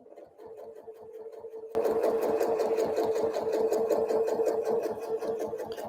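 A sewing machine stitches a quilt guided along a quilting ruler, running faintly at first and then louder and steady after a short pause, its needle pulsing in a fast, even rhythm with no talking.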